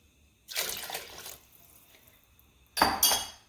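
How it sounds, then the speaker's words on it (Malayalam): Water poured into a simmering egg curry in a pan, with a steady splashing pour of about a second, a brief pause, then a second shorter pour; close and moderately loud with no talk. "വെള്ളം ഒഴിച്ചു കൊടുക്കാം."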